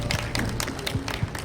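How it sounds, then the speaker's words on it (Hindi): Audience applause at a Kumaoni cultural society's swearing-in ceremony, a short burst of scattered clapping with a voice murmuring underneath. "जोरदार तालियां यशपाल रावत जी के लिए"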